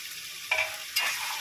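Goat liver being sautéed with spices in a pan for a Bengali meteh chorchori, a soft steady sizzle with two brief louder bursts of stirring or added food.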